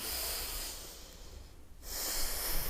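A deep, steady inhale during a thoracic spine and pelvis mobility breathing exercise: close, airy breath noise that fades briefly near the middle, then swells again, with no talking.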